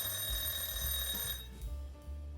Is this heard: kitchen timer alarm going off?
yes